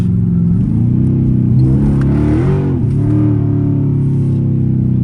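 A straight-piped Dodge Charger RT roars loudly close by, its exhaust rumbling steadily and swelling through a rev in the middle before settling back to a deep idle-like drone.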